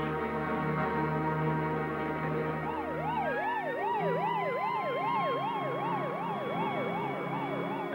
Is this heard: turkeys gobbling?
no